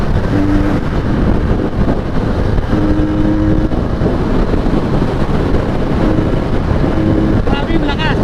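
A Benelli 302S motorcycle with its stock exhaust runs loud and steady up close, its engine roar blended with heavy wind buffeting throughout, with no clear separate rev peaks.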